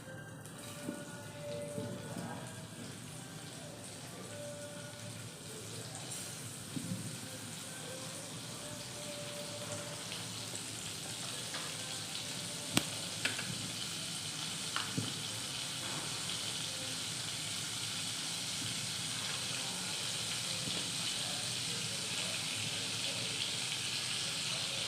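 Butter sizzles and fries steadily in a hot pan on a stove, a continuous crackling hiss with small pops, close and alone without talk throughout.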